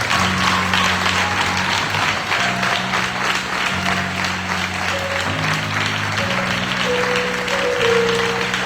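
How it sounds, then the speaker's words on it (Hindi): A church congregation at a pastor's sermon applauds loudly in a sustained, dense burst of clapping over a held musical tone. "जोरदार तालियां बजाएंगे।"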